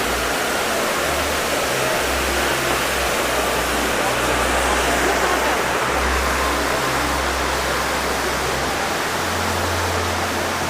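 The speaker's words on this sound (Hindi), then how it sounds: "जी हाँ, ये देखो लोध वाटरफॉल" Lodh Waterfall in Jharkhand roars with a steady, dense rush of falling water, loud and continuous throughout with no break, a broad wash of noise filling the whole scene.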